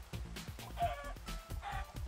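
Chickens cluck repeatedly in the video game Minecraft Sky Factory 3, with soft steady chatter over a low background hum and a couple of brief tonal game effects, no speech.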